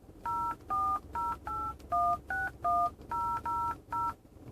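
Telephone keypad tones play through a 2016 Hyundai Elantra's Android Auto system as a number is dialed: about ten short, evenly spaced dual-tone beeps in a quick, steady rhythm, clear and alone.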